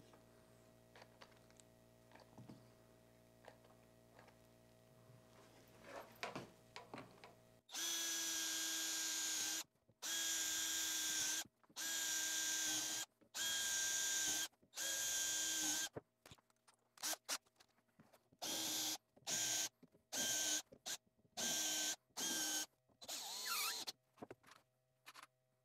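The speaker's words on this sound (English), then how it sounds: "we're going to pre-drill, countersink and drive in a few screws." A power drill pre-drills, countersinks and drives screws into a PVC pipe base, heard as a run of loud, sharp whirring bursts separated by brief pauses, after a quiet stretch of small handling noises.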